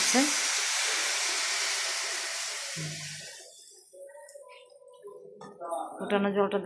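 Boiled hot water hits frying vegetable rice with a loud, rushing hiss of steam that fades away over a few seconds. Faint clatter and a voice-like tone follow.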